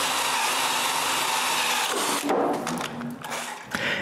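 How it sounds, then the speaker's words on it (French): A power drill bores holes into a wooden block for a homemade wooden bandsaw, a close, loud whirring burst that cuts off abruptly, followed by a few light knocks. "puis je perce un plus gros trou, la moitié de l'épaisseur de mon bloc."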